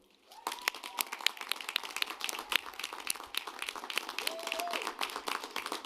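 A commencement audience at a May 2024 graduate and professional ceremony applauds steadily, a dense wash of clapping from a large crowd that swells and holds across the whole stretch, with faint voices and whoops mixed in.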